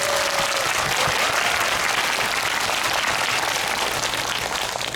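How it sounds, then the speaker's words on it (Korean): Sustained, dense audience applause for four guests at a Korean film talk event for the movie The Man Standing Next, steady and loud throughout with no voices above it. "우리 네 분께 일단 뭐 박수 한번 주시죠"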